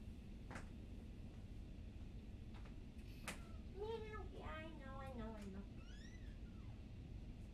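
A house cat meows repeatedly up close, a string of rising and falling calls bunched together near the middle and end, over a steady low room hum.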